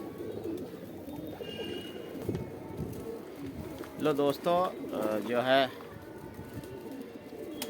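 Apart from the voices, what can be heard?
young pigeons cooing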